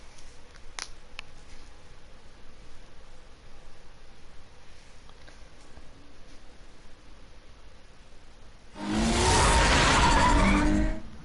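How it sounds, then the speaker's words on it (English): The Batmobile in a Batman video game: a quiet ambient stretch, then a loud, broad rushing surge of the car speeding and skidding for about two seconds near the end. "That's a fast car right there."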